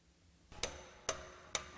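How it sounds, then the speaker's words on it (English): Three sharp metallic hammer strikes on a soft punch driving brake anchor pins during a front bearing repack, evenly spaced about half a second apart, close and crisp over a quiet workshop background. "Drive the anchor pins in with a hammer and soft punch."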